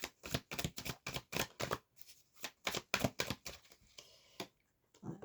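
Tarot cards are shuffled and drawn, giving a quick series of crisp riffling bursts followed by a few softer card flicks and slides, close and fairly quiet, with no talking.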